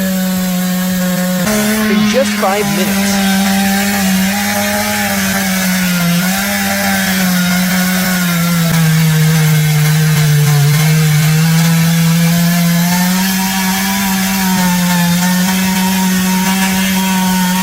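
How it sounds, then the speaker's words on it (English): A chainsaw cuts into a huge oak tree, its engine holding a loud, steady drone with slight pitch wavers as it bites through the wood, while a voice speaks briefly early on. "A huge oak tree was felled by a chainsaw"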